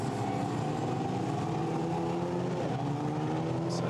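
Formula Renault Eurocup race cars accelerate out of a chicane at the Hungaroring, engines whining and roaring in a dense, steady blur heard from a distance, with no talk over them.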